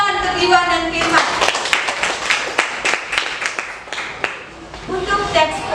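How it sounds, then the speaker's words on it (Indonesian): Classroom applause for students Iwan and Firman, a short burst of scattered clapping from a group of pupils, with voices speaking before and after it. "tepuk tangan untuk"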